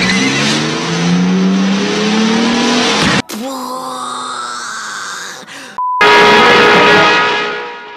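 A movie chase scene has a truck suddenly cutting across, with loud close engine roaring and revving, rising whines, abrupt cuts between shots and a tire-squealing skid toward the end.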